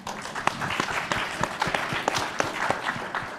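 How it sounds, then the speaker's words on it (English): Audience applause during a talk on manhood, scattered fairly close claps forming an uneven, moderate patter. "And give applause, please."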